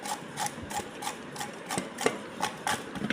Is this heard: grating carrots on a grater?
yes